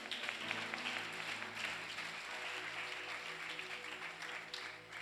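A church congregation claps during a sermon in steady, continuous applause, heard faintly and evenly over a low hum in the hall.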